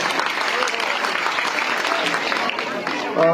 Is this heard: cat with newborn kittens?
no